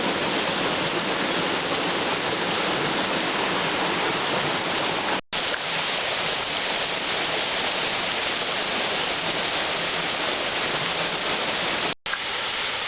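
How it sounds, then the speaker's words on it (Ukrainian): The Rushir waterfall, about five metres high, heard from its foot beside the pool below: a constant, dense roar of falling water, loud and close, steady for the whole stretch. "Зараз ми знаходимося у підніжжі, нижня частина водоспада."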